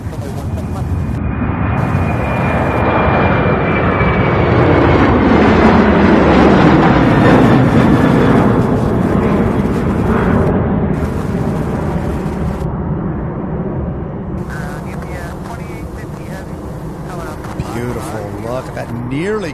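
A cargo aircraft taking off at UPS Worldport in Louisville: a loud, sustained jet roar with a falling whine that swells and then slowly recedes, with someone talking throughout.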